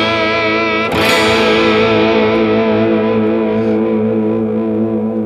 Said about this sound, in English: So you have a warble effect in there. It's not necessarily totally clean. You do have a little bit of distortion happening.